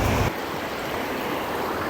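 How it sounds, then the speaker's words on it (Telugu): A small waterfall pours in a steady, close rush of water that fills the short moment with no voices. "ఇది చిన్న వాటర్ ఫాల్స్."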